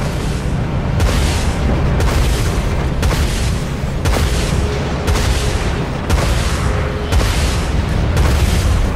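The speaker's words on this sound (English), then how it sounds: "Broadside. Open fire." Repeated heavy broadside cannon blasts from warships in the Dreadnought space combat video game, a dense roar of booms landing roughly once a second over a constant rumbling bed, loud and close with no voices.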